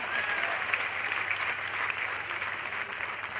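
Steady applause from a large crowd at a political rally in Gwalior, a dense continuous patter of clapping that holds at an even level for the whole stretch.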